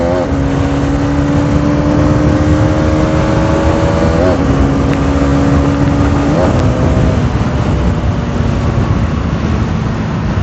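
A Hero Karizma XMR motorcycle engine pulls steadily upward in pitch through the gears, with brief dips at shifts, under constant loud wind and road rush while riding.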